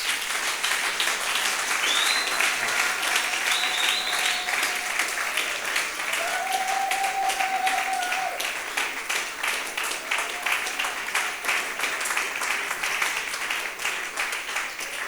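A congregation claps at a church service in steady, dense applause that stays strong throughout and fades only slightly toward the end, with faint voices mixed in.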